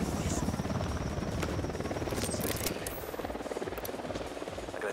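Helicopter in the Ghost Recon Wildlands video game, a steady loud rotor drone running through the whole stretch, with game voices and combat sounds over it.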